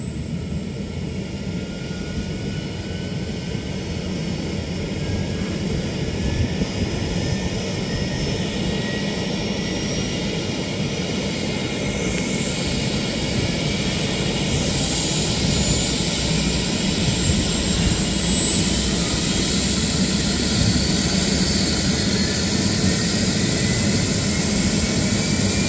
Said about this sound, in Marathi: चालू झालंय बघा हेलिकॉप्टर.